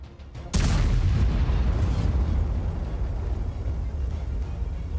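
A single loud booming blast from a Soviet self-propelled artillery gun in World of Tanks, starting abruptly and followed by a long, rumbling roar that slowly fades.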